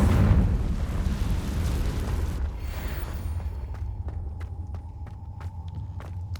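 A Confringo blasting spell in Hogwarts Legacy lands as a loud rumbling explosion that slowly fades, followed by faint clicks and a sparse ringing tone.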